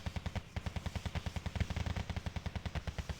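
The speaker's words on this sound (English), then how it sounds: "it is a bunch of machine gun fire that's coming in here" Rapid machine gun fire in the Wargame Red Dragon video game, a fast, even stream of loud, close bursts running continuously without pause.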